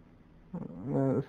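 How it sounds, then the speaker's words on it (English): A dog growls low and briefly in Tomb Raider, a short rising snarl with a throaty tonal edge that lasts under a second and stands alone. "There's some dogs who are highly likely to attack if you're not careful."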